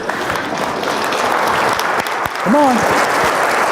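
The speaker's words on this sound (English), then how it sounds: "face the camera, big round of applause" Sustained audience applause at an industry event, a dense wash of clapping throughout, with a voice calling out briefly over it partway through.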